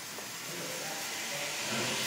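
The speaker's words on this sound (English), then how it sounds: "the steam from the boiler is now going into one end of the cylinder" Live steam rushing into one end of the cylinder of a System Winterthur compound locomotive, a steady broadband hiss that builds slightly in strength over about two seconds, with no talk.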